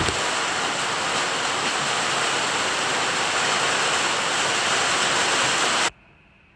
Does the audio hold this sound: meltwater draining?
yes